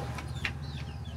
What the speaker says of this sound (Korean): 어미 닭하고 새끼 닭들